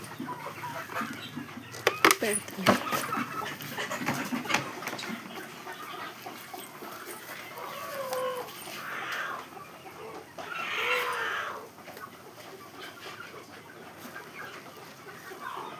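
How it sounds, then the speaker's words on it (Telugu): A brooding hen clucks repeatedly in a village yard as she is given water and feed, with a person talking close by over the clucking. "ఇప్పుడు మేము పొదిగేసిన కోడికి నీళ్ళు దానా"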